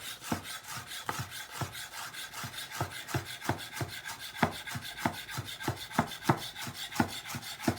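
Sharp knife slicing and scoring white asparagus, a fast regular run of crisp scraping cuts, close and clear with no talk over it.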